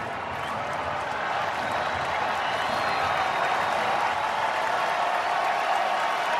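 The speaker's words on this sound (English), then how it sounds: "Crowd getting pumped up." Baseball stadium crowd at a Yankees versus White Sox game cheering and getting pumped up with two outs and the bases loaded, a broad continuous roar of many voices that swells slightly, steady and distant, with no clear talk.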